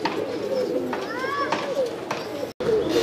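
A pair of Batera pigeons coo softly, with a few trilling calls, heard close over a steady background murmur and a brief cutoff near the end.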